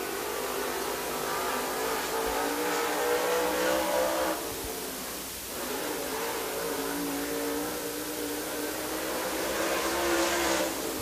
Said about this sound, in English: Big Eddie Blackman out of Villarica, his second and final lap.